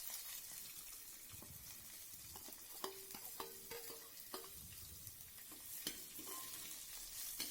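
Chopped large onions sauté in oil in a clay pot over a low flame for a vegetable white kurma, giving a steady close sizzle broken by scraping stirs and a few sharp utensil clinks, with no talking.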